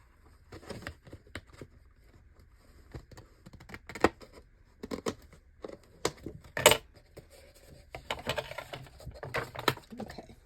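Scissors snipping through craft material at a bead-crafting table, a series of sharp, irregular close cuts with small rustles and handling noises between them, no talking.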